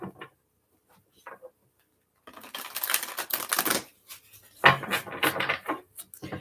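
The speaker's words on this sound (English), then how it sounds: "Let's give it a couple shuffles." Tarot cards shuffled by hand, quick bursts of crisp papery riffling and tapping after a quiet start, close and fairly loud, with no talking.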